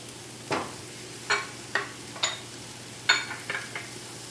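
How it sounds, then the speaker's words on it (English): Vegetables sautéing in a pan as a quiet hiss, broken by several sharp, brief clinks and scrapes of a utensil stirring against the pan at irregular intervals, close and fairly soft, no talking. "So we're just going to let those saute for just a little bit so that they can really get tender."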